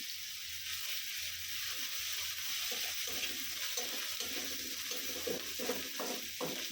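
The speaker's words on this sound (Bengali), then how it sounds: "এখন আদা রসুন পেস্ট এগুলো দিয়ে দিব পরিমাণ মতো সবই অল্প অল্প ভালো করে ভেজে নেব" Ginger garlic paste frying for tuna fish curry, a steady bright sizzle with soft stirring scrapes that grow busier toward the end, heard alone and fairly close.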